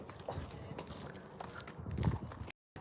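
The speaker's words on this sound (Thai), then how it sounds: "อ้าวเป็นมาขี่ม้า เราไปต่อ" Hooves of a horse being ridden along a rural path in the morning, a soft, uneven clip-clop of steps at some distance against outdoor background noise.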